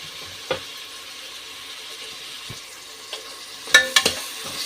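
Onion and ginger frying in oil as a tempering for whole masoor dal, a steady close sizzle broken by several sharp clinks and scrapes of stirring toward the end.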